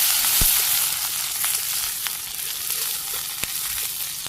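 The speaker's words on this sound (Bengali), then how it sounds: "পেঁয়াজ কুচি দিয়ে দিই পেঁয়াজটা ভেজে নিই" Chopped onions sizzle steadily in hot oil in a pan after cumin seeds have been tempered, a continuous bright frying hiss with occasional sharp crackles and pops, close and moderately loud with no talking.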